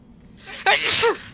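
A single sharp sneeze, close and sudden, preceded by a brief inhale against a quiet background.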